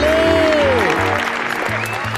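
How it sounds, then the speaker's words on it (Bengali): A studio audience on a Bengali TV quiz game show bursts into sustained, loud applause, a dense even patter of clapping that lasts the whole moment over a bright musical jingle. "হাততালি, হাততালি।"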